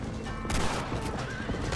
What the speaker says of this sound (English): just drive around the horses